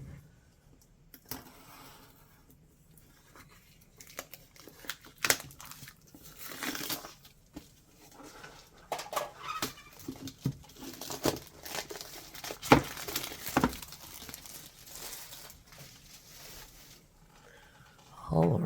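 Plastic and cardboard packaging for a dip pen crinkles and tears while being cut open with an X-Acto knife, in scattered close crackles and rustles with a few sharper snaps, loudest near the end.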